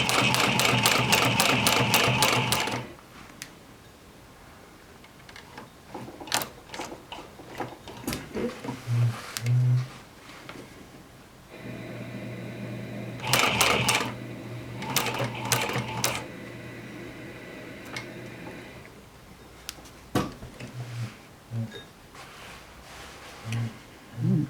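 Stitching on jeans with a sewing machine: a loud run of close-up stitching opens, followed by shorter bursts and single half stitches amid quiet handling noises.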